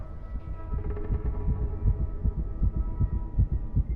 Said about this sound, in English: That's the other heartbeat he was hearing, right?